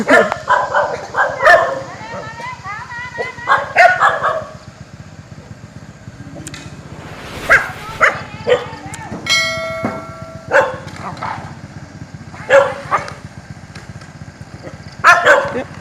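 Several dogs bark and yip in bursts at varying distances, with a bell ringing in the middle and someone talking between the barks.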